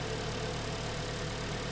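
A Hyundai ix35 with the G4KD engine, said to knock and have scored cylinders, idles steadily while warming up, a constant low mechanical drone with no talk.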